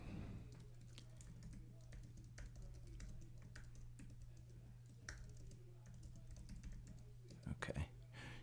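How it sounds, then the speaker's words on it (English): Typing on a computer keyboard at a home trading setup, soft scattered key clicks under a steady low hum, with a brief spoken word near the end. "let me just type this down"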